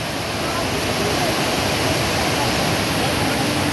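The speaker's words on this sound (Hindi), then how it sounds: "एकदम 200 की स्पीड में पानी निकल रहा है" Water gushes at high speed down a river in the hills, a loud, steady broadband roar that stays constant and close for the whole stretch, with no voices.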